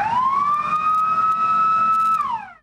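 A fire engine siren wails loudly and close as the fire brigade pulls out urgently, one long rising tone that holds steady and then drops away at the end.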